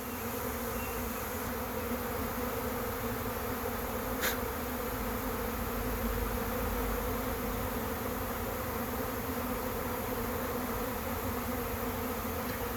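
A honey bee swarm flies around a trap box outdoors, landing on ferns and a nearby tree, with a dense, steady buzz of many bees close by throughout.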